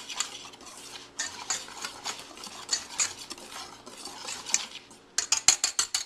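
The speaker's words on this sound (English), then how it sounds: "now we're just going to take a whisk and basically just kind of blend that in" Whisking sugar into flour for a pie crust, with a rapid, steady rustle and scrape of the whisk in a bowl, ending in a quick series of louder metallic taps against the rim.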